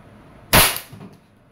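An Umarex Glock 17 Gen 5 pellet airgun fires a single sharp, loud crack close by, and the shot decays quickly into a faint after-rattle.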